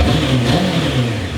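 A Suzuki GSX-R SRAD motorcycle engine, choke not fully off and in need of a gas drain, revs loudly and close with a rough, wavering mid-range drone.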